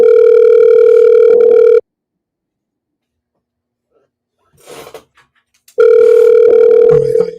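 A loud, steady telephone dial tone plays while a call is being placed. It cuts off into silence broken by faint clicks, then returns just as loudly.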